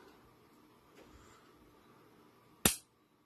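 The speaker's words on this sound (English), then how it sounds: "I'm going to pull that trigger slow." Dry fire of a Smith & Wesson M&P pistol after a slow trigger pull: a single sharp, close click of the striker releasing in an otherwise quiet room.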